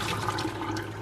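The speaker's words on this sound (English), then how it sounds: "Alright, we're just going to drain our noodles" Cooked noodles are drained, giving a brief, steady rush of pouring water splashing into a sink, close and fairly soft, with no speech.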